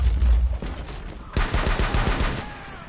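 Rapid gunfire in the tactical shooter Rainbow Six, dense bursts of loud close shots with a sharper volley partway through, steady and continuous throughout.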